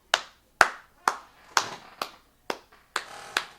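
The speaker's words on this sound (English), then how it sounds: "round of applause for the Raptors, man" A single pair of hands claps slowly and sharply about eight times, close up and alone, as a fan applauds the Toronto Raptors after a playoff loss to the Philadelphia 76ers.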